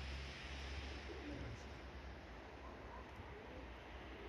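Pigeons coo faintly outdoors during a homing flight training session, soft low calls nearly buried under a steady wind rush.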